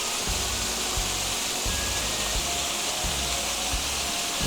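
A waterfall roaring as a dense, steady rush of broadband noise, close and loud, with occasional low thumps from handling and no talking.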